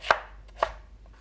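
A knife chops peeled lotus root into small pieces on a board: two crisp, close chops about half a second apart, with quiet between them.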